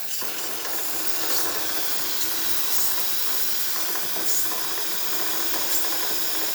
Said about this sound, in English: Now that it's fully pressurized, you can see nice steam coming out through the machine.